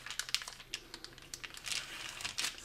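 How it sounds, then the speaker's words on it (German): Plastic bag holding marinated tofu steaks crinkling as air is pressed out by hand, quiet close rustling in irregular bursts. "dann zum Schluss noch ein bisschen die Luft aus der Tüte drücken."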